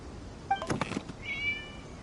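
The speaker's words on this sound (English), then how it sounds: "It was just a cat." Short, bright cat meows in Genshin Impact, a quick pair near the start followed by a thin, higher trailing cry, heard alone and close over quiet game ambience.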